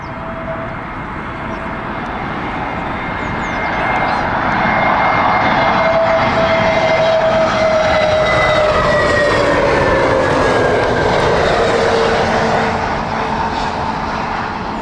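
A British Airways Airbus A320neo lands at Heathrow in crosswinds, its engines roaring loud and close with a whining tone that swells and falls as it passes.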